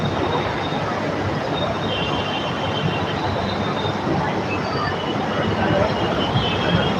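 A metro train rumbles past a religious sermon gathering held beneath an elevated metro line in a Delhi colony. Its steady, loud rolling noise has faint high wheel squeals riding on top, and it continues throughout.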